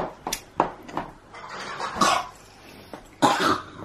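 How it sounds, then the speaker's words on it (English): Small boy coughing nearby indoors, a series of short harsh coughs and throat-clearing bursts spaced irregularly, with a louder cluster near the end. "He's been coughing a lot more this morning."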